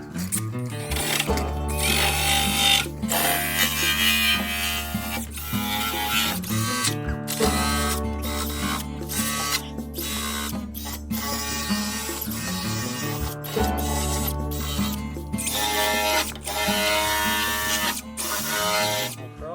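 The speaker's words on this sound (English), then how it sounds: "These purple ones do a really good job of taking down the paint and rust, getting us back down to clean metal." Power-tool-driven purple strip pads grind paint and rust off the metal rocker panel of a 1981 Chevrolet C10 pickup, giving a loud, buzzing whir that starts and stops in repeated bursts with short pauses, with no voices.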